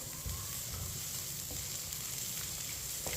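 Dried fruit, washed coconut and raisins cook in a pan while being stirred, giving a faint, steady sizzle with a few soft scrapes of the spoon. Nobody speaks.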